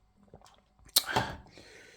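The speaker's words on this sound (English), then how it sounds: "Why you make such noise when you're sipping?" A drink is sipped loudly close up: one sharp, slurping intake of breath and liquid that trails off into a soft hiss after a few faint small noises.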